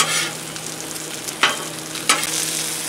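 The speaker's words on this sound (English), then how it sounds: "Okay, back to my okra. Gonna turn it, stir it up." Okra frying on a Blackstone griddle gives a steady, close sizzle, and a spatula turns and stirs it in two brief scraping bursts. Nobody talks.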